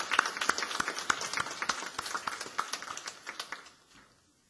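A church congregation claps enthusiastically, a dense burst of hand claps that stays steady for a few seconds before tapering off into quiet.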